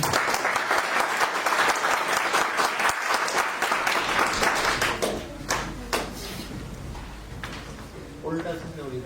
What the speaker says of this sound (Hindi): बिल्कुल, जोरदार तालियां होनी चाहिए।